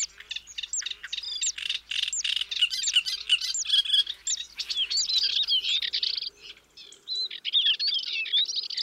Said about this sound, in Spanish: el concierto de las aves suena en las páginas de las guías de campo